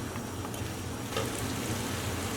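Sausages frying in a pan over medium heat for Persian sosis bandari, giving a steady, close, dense crackling sizzle throughout with no talk.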